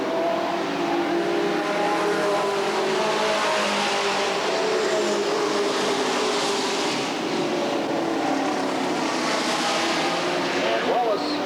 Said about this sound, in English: The 4-car is going to try to make some kind of move on Steve Henderson.